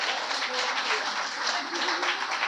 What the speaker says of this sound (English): And could you give each other a round of applause,